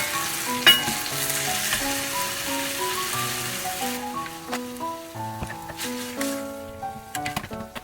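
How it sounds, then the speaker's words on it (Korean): Seasoned LA galbi beef short ribs grill in a hot pan, giving a steady sizzle and crackle that thins out toward the end, with a few clinks and a faint tonal hum beneath. "달군 고 팬에 가지를 채워놓고 양념을 한숟가락 이렇게 넣어서 구워주시면 됩니다."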